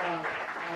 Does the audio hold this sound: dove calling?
no